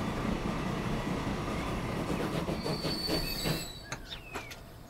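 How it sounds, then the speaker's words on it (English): A train from the video game Transport Fever 2 rolls along the rails, a steady rumble with rhythmic wheel clicks and faint squealing that thins out and drops quieter toward the end. "You can actually enjoy the game by jumping on board the train and going for a full ride"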